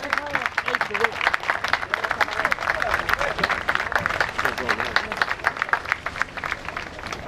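Steady applause from a crowd at a traineras rowing regatta in Chapela, Redondela, dense rapid clapping throughout with a voice talking over it.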